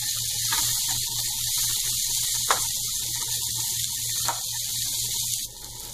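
Onions sauté in a pan over a high flame for paneer do pyaza, giving a continuous, loud frying hiss with a few sharp crackles, steady throughout and without talk.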